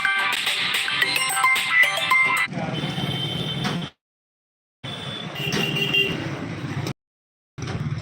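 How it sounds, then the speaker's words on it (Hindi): A phone rings loudly in bursts of bright electronic tone separated by short silences, with no one talking over it. "कोई फोन आ रहा है।"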